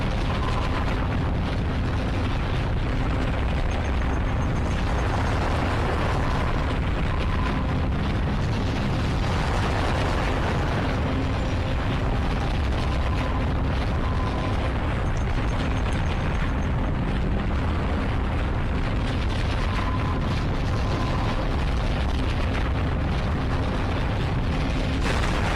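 Explosions tear through and destroy an area in Hybrid Heaven, a continuous loud roar of booming blasts and rumbling that never lets up for the full length, with no talking.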